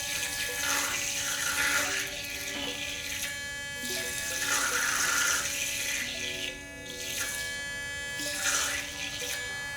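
A uSmile U3 sonic electric toothbrush on its clean setting buzzes loudly with water, a steady high vibrating whine that swells in pulsing bursts as water splashes, with no talking.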